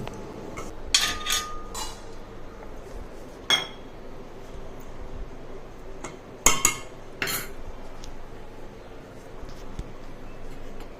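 Ground ragi (finger millet) mix is stirred in a cup for healthy ragi balls, giving quiet, scattered clinks and taps of a spoon against the cup with soft scraping between them.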